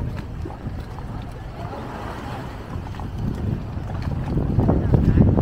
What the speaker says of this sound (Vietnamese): Có từ cano là cano đi, cano này đi Hòn Thơm nè,